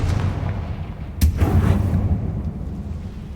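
A Confringo fire spell in Hogwarts Legacy goes off as one sharp, loud blast, followed by a rumbling low roar and crackle that fades over the next couple of seconds.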